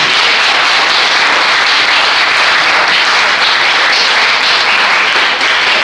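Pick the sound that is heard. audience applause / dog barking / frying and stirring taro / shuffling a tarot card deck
audience applause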